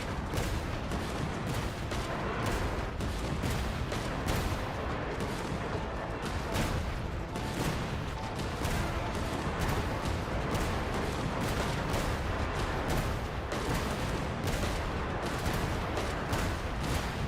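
Rapid, dense artillery and gunfire from a war video game, a continuous loud barrage of overlapping blasts and volleys that never lets up, with no talking over it.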